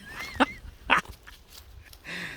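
A puppy on a construction site gives a few short, sharp yaps and whimpers, spaced apart and fairly close, against a quiet background.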